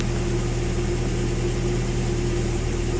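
A warm car engine idling roughly, a steady low mechanical hum with a faint uneven pulsing throughout, close and continuous with no voices.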